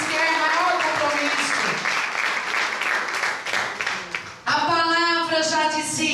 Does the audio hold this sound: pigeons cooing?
no